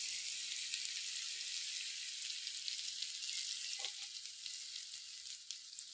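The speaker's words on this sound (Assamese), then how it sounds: "নহৰুখিনি ভাজা হৈ গল এতিয়া" Chopped garlic and turmeric frying in a hot pan give a steady, close sizzle with faint crackles and a brief stir partway through, with no voices.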